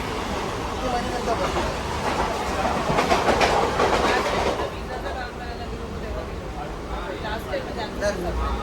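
Steady rumbling and rhythmic clatter inside a moving train carriage, swelling louder in the middle, with faint voices mixed into the noise.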